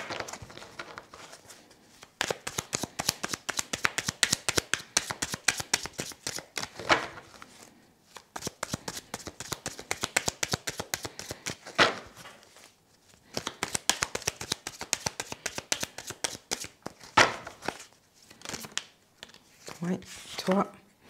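Playing cards are shuffled and handled up close in repeated rapid riffling bursts separated by short pauses, crisp flicking clatter dominating the scene.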